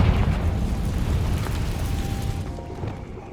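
The Confringo fire spell exploding in the video game Hogwarts Legacy, a loud, rumbling blast with a dense crackling burst that slowly fades over a few seconds.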